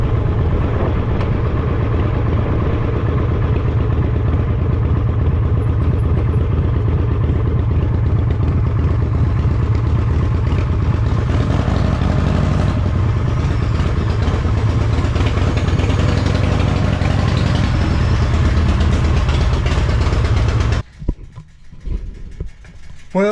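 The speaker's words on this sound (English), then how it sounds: "I got to go on a motorcycle ride" A motorcycle engine rumbles steadily for a long stretch while riding, loud and close with wind noise, before cutting off near the end.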